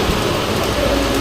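Heavy rain at an outdoor fair, a loud, dense, steady hiss of drops pouring down over everything for the whole short stretch.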